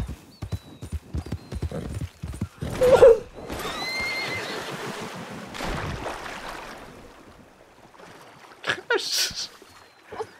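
A horse in the RedM western video game, with hooves clip-clopping in quick steps, a loud whinny, and splashing movement through water, while someone talks briefly between the sounds.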